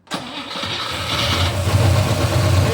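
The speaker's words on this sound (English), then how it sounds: "We're about to start her up again" A 1965 AMC Ambassador engine cranks and fires, then settles into a steady, loud idle with a low rumble that swells slightly toward the end, close up with no talking.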